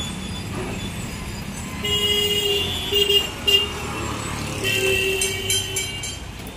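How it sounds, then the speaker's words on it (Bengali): A tram on a street in Jadavpur, Kolkata passes amid steady traffic rumble, with a loud tonal horn or bell sounding in sustained blasts through the middle and again near the end. "মেট্রো ট্রাম লাইনও আছে, ট্রামও যাচ্ছে"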